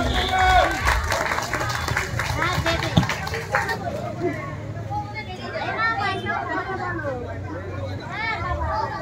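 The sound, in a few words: audience applause at prize giving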